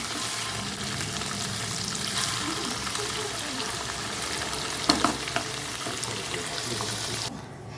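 Light frying of a dish in a pan for homemade paneer, with no potatoes added: a steady, moderately close hiss and sizzle running the whole way, with a couple of brief clatters near the end.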